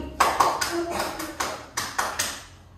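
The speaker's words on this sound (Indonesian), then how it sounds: "tepuk tangannya ketukar 3 kali seperti ini" A group of people clap their hands together in a classroom spirit cheer, about eight sharp, loud claps in a quick, steady rhythm.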